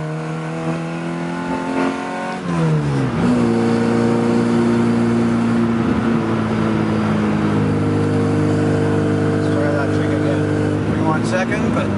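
A 1967 Mini Cooper S with a faulty second gear on a test drive, its engine dropping in pitch then climbing into a loud sustained rev, droning steadily inside the cabin while people talk.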